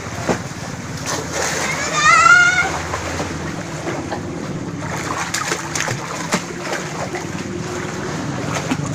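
Water splashing as someone swims in shallow sea water off Loay, Bohol, with steady surf and wind noise underneath and people talking nearby throughout.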